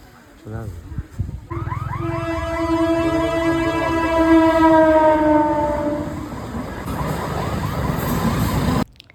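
A train sounds its horn in long sustained tones at a rail gate in the rain, loud and close, followed by the rumble of the passing train.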